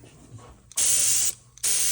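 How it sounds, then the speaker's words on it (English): An airbrush sprays paint in two loud, steady bursts of hissing air, each lasting about half a second, with a quiet pause between them. "we're spraying"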